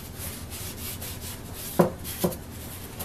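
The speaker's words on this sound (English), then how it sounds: "It's a paste wax, so it doesn't take a lot of rubbing." Paste wax rubbed by hand onto the wooden tote of a crosscut hand saw, a soft steady rubbing hiss with two brief louder knocks near the end, close and quiet, no voices.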